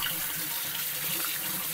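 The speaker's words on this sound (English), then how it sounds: "I think I'm going to start with washing the peppers" Tap water runs steadily into a sink as peppers are rinsed beneath it, a continuous close hiss and splash with no talking.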